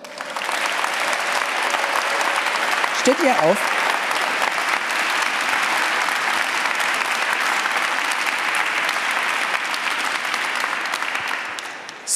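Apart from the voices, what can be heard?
applause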